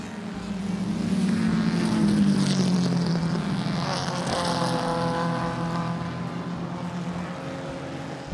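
Vintage chain-driven race car from the Goodwood Chain Gang race, its engine droning loud and close with a sweeping rise and steady roar as it passes, no talking.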